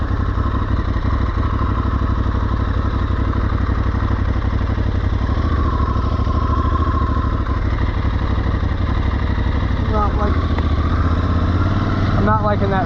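An Aprilia Tuareg 660 motorcycle pulls away on a test ride, its engine droning steadily and close throughout with rumble and mechanical clatter, wind noise building, and a brief click-like burst near the end.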